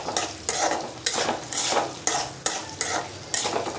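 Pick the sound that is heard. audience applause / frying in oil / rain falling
frying in oil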